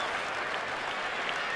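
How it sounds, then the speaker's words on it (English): Baseball stadium crowd buzzing and clapping during a Giants at Washington game, a steady, broad rumble of cheers and applause with no pauses. "Hear the buzz in the crowd."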